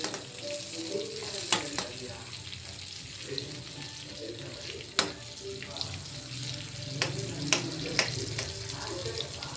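Butter and ghee melt in a pan for paneer butter masala with a steady, close sizzle, broken by occasional sharp pops and clicks of stirring, continuous and moderately loud.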